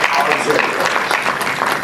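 An audience applauds an award winner at a short documentary and short film festival ceremony, a dense, sustained clatter of clapping with a voice over it.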